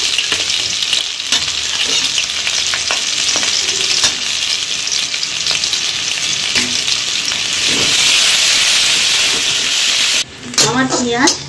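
Finely chopped onions frying in oil tempered with whole spices for mutton biryani, a loud, continuous sizzle with stirring scrapes throughout, swelling near the end before a brief pause and a short spoken voice.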